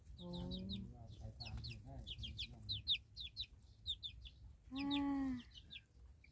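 Chickens cluck repeatedly in a rhythmic series of short calls, with one louder, drawn-out squawk near the end, close by outdoors at a home in rural Thailand.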